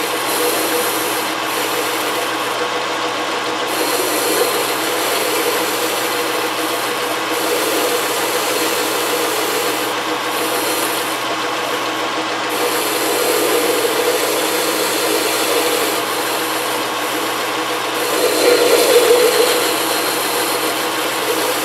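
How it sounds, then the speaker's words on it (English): A lathe with a half horsepower motor runs steadily in a workshop, making a constant close whirring hum for the whole stretch, with slight swells, while a rod bending jig is being made. "Got a 1/2 horsepower motor on this lathe."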